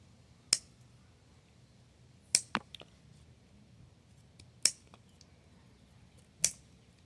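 Scissors cutting the roots of an overwatered orchid: a handful of sharp, isolated snips spaced a second or two apart, close by, over a quiet background.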